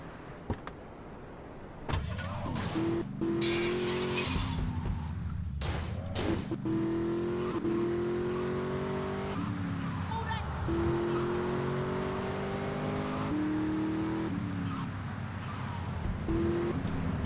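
A car in Grand Theft Auto: Vice City, its engine a steady drone rising in pitch with each acceleration and dropping back on gear changes, heard close with someone talking over it.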